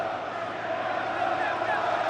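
A stadium crowd of Chelsea fans applauding at a Fulham vs Chelsea Premier League match in 2004/05, a steady, dense roar and clapping filling the whole stretch with no break.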